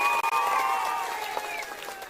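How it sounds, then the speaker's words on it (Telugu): A crowd at a political rally breaks into applause, a short, dense patter of clapping that fades slightly as it goes, with a voice carrying over it. "గట్టిగా చప్పట్లు కూడా అందరూ అభినందించండి."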